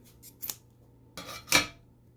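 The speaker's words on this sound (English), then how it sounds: "here we're going to cut our yarn" Scissors cut through yarn while a knitted pillow cover is finished: two quick, crisp snips close by, separated by a short pause in an otherwise quiet room.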